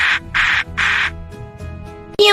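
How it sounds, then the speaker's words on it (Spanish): A peacock gives three loud, harsh, drawn-out calls in quick succession over cheerful children's background music. "El pavo real hace."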